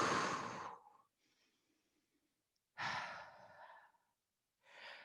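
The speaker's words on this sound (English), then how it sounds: "Deep breath in and out." A deep inhale and long audible exhale during a beginner mat Pilates workout, two breath cycles with quiet pauses between, close and alone with no talk.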